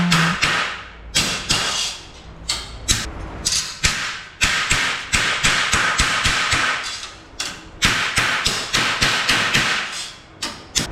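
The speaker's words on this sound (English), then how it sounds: "I'm just going to hammer it a bit in this corner" Rapid, sharp metallic hammer blows on Volkswagen Beetle sheet metal, dozens of strikes in uneven bursts, loud and close with brief pauses between runs.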